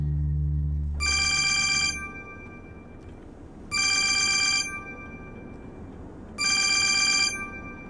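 A telephone bell rings in three long bursts separated by short pauses, loud and close, with a low rumble of background noise beneath it.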